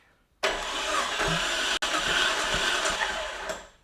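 A Jeep Cherokee XJ engine cranks steadily over on the starter during a compression test of cylinder 5, a loud, even chugging that runs for about three seconds with one brief break.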